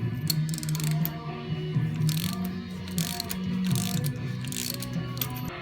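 Ratchet socket wrench with a narrow socket loosening a rocker arm nut on an engine, a close, continuous run of rapid clicking strokes repeating in short bursts.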